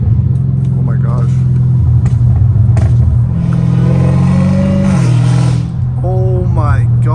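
Straight-piped Dodge Hellcat Redeye engine rumbling loudly and steadily up close, its deep drone shifting pitch through several gear changes, with a person talking over it.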